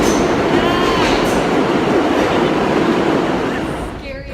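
A New York City subway train rumbles and clatters loudly up close, a dense steady roar with faint squeals, fading slightly at the very end.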